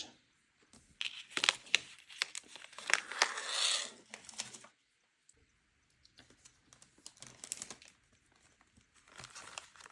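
A package of rubber fishing lures crinkles in bursts as it is handled, crackly plastic rustles close by with short pauses between.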